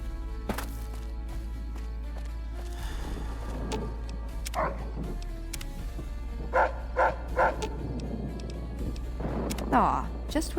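A companion dog in Fallout New Vegas gives several short, sharp barks and yips, spaced out in quick pairs, over a steady low game hum and a voice talking.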